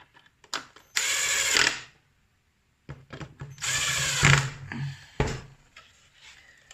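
A power driver runs the screws down on a Dazzlar LED indicator and park light for an HJ-HZ, in two whirring bursts of about a second each, close up, with ratcheting clicks in between.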